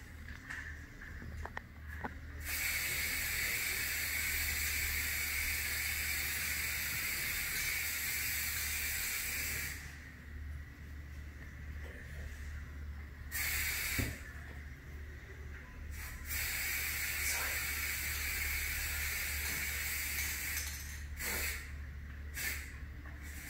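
Steady hissing spray from an aerosol can runs continuously, pausing briefly a few times before resuming, fairly close and even in loudness.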